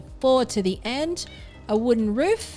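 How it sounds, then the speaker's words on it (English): A house cat meows loudly and close by in repeated rising cries, under and between a man's spoken counting during a Palworld game session. "That is my cat crying, if you're wondering what that noise was"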